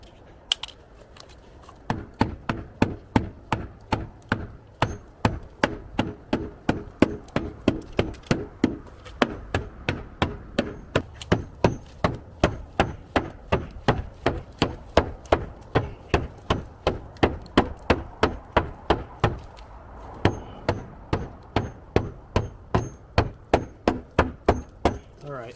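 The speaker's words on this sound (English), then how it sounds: "I think that's going to be enough hammering for now" Steady, sharp hammer blows strike a filler-coated car body panel on a Q60, dozens of evenly spaced metallic knocks repeating close and loud with no talking.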